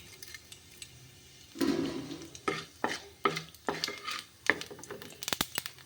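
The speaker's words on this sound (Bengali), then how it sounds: "তেল গরম হয়ে গেল পুরো মানে আমি কালো জিরে দিয়ে দিচ্ছি" Nigella seeds hit hot mustard oil in a wok, setting off a crackling sizzle after a quiet start, with close, irregular clinks of a stirring spoon against the pan.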